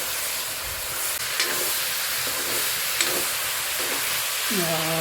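Jackfruit curry sizzles loudly and steadily as it is stirred in a pot over a wood fire outdoors. A few soft scrapes come through the constant hiss, and there is no clear speech.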